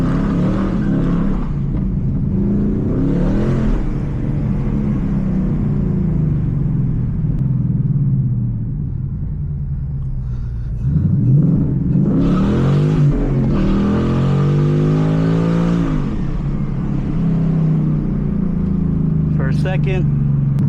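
A 2013 Ford Mustang GT engine rumbles deeply as it accelerates in first gear, climbing in pitch, dropping at a shift, then pulling hard again, loud and close inside the cabin, with someone talking over part of it.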